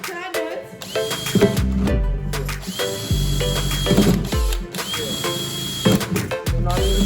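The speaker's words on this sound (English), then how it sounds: "Okay, so I'm gonna get this drill and then we can start drilling." A power drill bores holes while a worm bin is being built, running in several loud, close bursts that whine up in pitch and stop, with short pauses between them.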